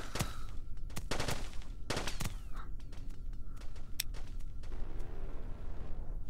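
A 30mm gun fires in Kerbal Space Program with BD Armory: loud pulsed bursts of rapid heavy shots, each a sharp broadband crack, repeating in uneven volleys over a steady engine drone.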